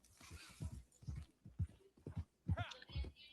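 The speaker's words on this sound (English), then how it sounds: "You gotta ride the horse." Horse hooves clip-clop in a video game in a rhythmic series of muffled thumps, heard alongside faint background speech.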